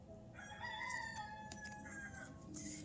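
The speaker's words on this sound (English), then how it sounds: "And you got the rooster in the back just kind of giving you some love too." Rooster crowing faintly in the background, one drawn-out call that rises and trails off over low ambient noise.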